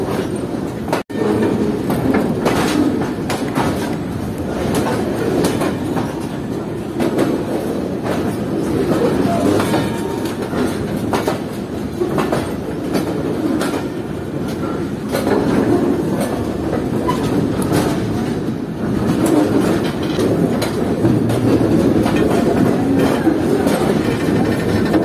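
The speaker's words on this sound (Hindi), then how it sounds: "ये हमारी ट्रेन ट्रैक्स चेंज करते हुए जा रही है मेन लाइन की तरफ" Freight train in heavy rain switching tracks onto the main line, a loud, continuous rolling rumble with steady clickety-clack of wheels over rail joints, heard from on board without pause.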